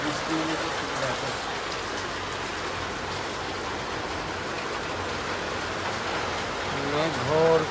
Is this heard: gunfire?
no